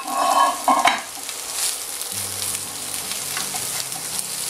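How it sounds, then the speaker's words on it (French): Chanterelle mushrooms are tossed in browned butter in a pan, giving a close, continuous sizzle with a couple of sharp scrapes and clatters at the start, then steady frying with no voices. "On va bien les faire sauter."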